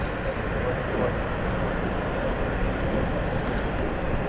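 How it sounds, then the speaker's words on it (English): A small biplane passes overhead near London City, a steady, even propeller-engine drone with a broad hum that holds throughout. "Little biplane."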